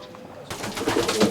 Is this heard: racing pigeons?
yes